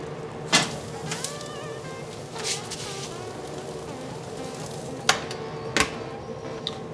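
Thick Dexter beef steaks sizzle on a flame grill, a steady crackling hiss running throughout, broken by a few sharp clanks and taps of tongs or grill grates.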